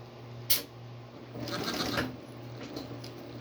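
A Singer 168W101 flat-bed sewing machine runs a short burst of long stitches, a soft whirring rattle lasting about a second, with a sharp click just before it and a steady low hum throughout.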